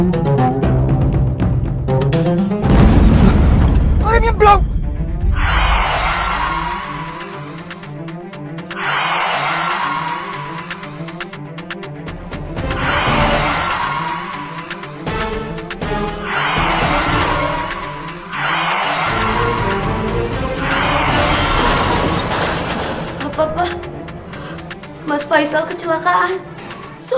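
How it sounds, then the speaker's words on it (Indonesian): A car skids with squealing tires, then crashes and bursts into flames in an Indonesian TV drama. Loud engine and skid noise carry the scene, and heavy impact bursts recur over a long, busy stretch. "Waktu terjadi kecelakaan, mobil meledak karena terbakar."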